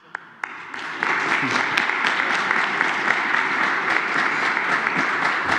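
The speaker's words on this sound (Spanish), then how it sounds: "Un aplauso." A crowd applauds at a presidential press conference in Mexico, the clapping starting after a couple of sharp claps and holding as a dense, steady wash of applause with no talking.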